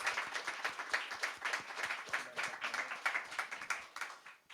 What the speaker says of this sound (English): Let's give him a round of applause for his courage.